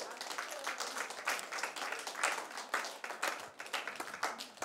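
A church congregation applauds with continuous, moderately loud, dense clapping from many hands, sustained throughout with slight swells.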